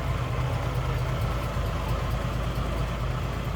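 A 1963 Ford Falcon Futura convertible with headers idles smoothly in a low, even rumble, close up and steady throughout, with no talking.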